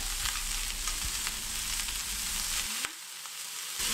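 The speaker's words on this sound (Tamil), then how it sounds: "அந்த காலிஃப்ளவர் இதில் சேர்த்துடலாம் நல்லா அந்த எண்ணெயிலே ஒரு நிமிஷம் நல்லா வதக்கிக்கணும்" Steady oil sizzle as cauliflower fries in a pan, a continuous crackling hiss with light stirring, briefly dipping near the end.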